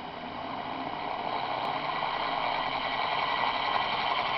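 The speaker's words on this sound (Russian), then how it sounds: "мотор работает с такими рывками непонятными" An electric motor driven by a ZW-BT1 VFD inverter runs with irregular jerks, a steady mid-pitched whine and hum with a faint rhythmic wobble, growing slightly louder, heard close and alone.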